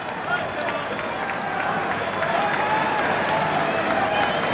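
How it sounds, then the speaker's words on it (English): A large, enthusiastic crowd at a 1992 Tigers–Royals baseball game at the stadium, a steady dense roar of cheering and chatter that holds at an even level throughout. "We've got a large crowd on hand, a very enthusiastic crowd"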